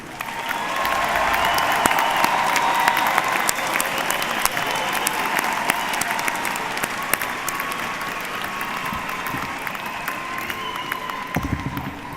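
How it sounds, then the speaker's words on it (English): A large audience at a midyear university commencement gives a sustained round of applause for the graduates, a dense, even wash of clapping that holds steady for several seconds before slowly thinning. "How about one more round of applause for every graduate?"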